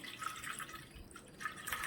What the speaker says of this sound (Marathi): आता प्रथम आपण ह्या भगरीतलं पाणी काढून घेऊया